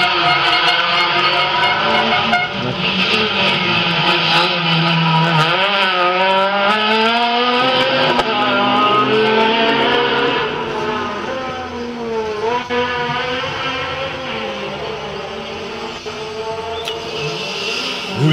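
A rally car on the twelfth special stage of the 40th Rallye des Grands Fonds between Tombeau and Vallée, on a dusty, abrasive road, approaches with a loud rising and falling engine note that fills the whole stretch, with voices talking over it.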